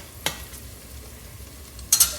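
Onion, garlic and ginger sizzle quietly in a pan on medium-high heat, with two sharp spoon scrapes as the mixture is stirred, one early and one near the end.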